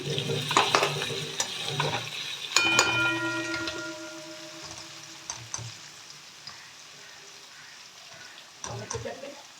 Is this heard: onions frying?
yes